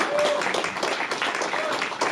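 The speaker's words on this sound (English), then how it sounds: "So if you could give them a round of applause, I think that would be appropriate." An audience at a business meeting claps in a brief, moderately loud round, with some faint voices under it.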